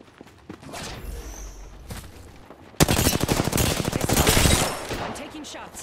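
Loud automatic gunfire from an Apex Legends match in Kings Canyon comes in a dense rattling burst midway, after quieter scattered shots and movement sounds, with players talking over it.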